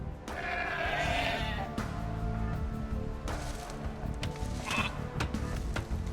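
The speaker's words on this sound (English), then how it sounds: "You've found some sheep. Sheep are a good source of food" Sheep bleating in the Age of Empires Definitive Edition strategy game, a few bleats over a busy layer of game sounds and background music.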